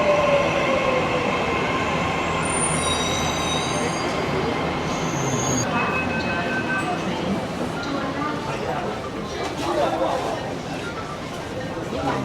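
A Mumbai metro train at Andheri West station rumbles past with loud, high wheel squeals that ease into a steady rolling noise, with voices in the background.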